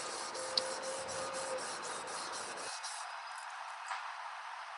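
Steady, fairly quiet abrasive rasping as the bevel of a scandi-grind knife is worked on a sharpening stone, with quick repeated strokes in an even rhythm for the first few seconds, then a smoother continuous scrape with no one talking.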